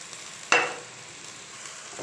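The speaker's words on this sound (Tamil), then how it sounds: "கோஸை நல்லா வதக்குங்க." Cabbage, carrot and beans sautéing in a pan for veg noodles, a sharp sizzle bursting up when vegetables hit the hot oil, then settling into a low, steady frying hiss.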